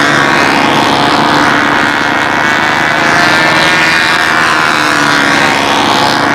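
A model Seafire airplane flying at a contest on an Air Force base, its small glow engine and propeller giving a continuous, loud, high buzzing drone that holds steady with slight pitch swells throughout.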